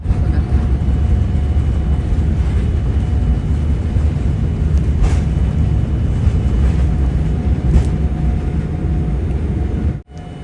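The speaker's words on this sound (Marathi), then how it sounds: "आता हे बघा उडान घेत आहे विमान" Airplane taking off on an Ethiopia to Newark flight, heard from inside the cabin as a loud, steady low roar of engines and rushing air for the whole stretch.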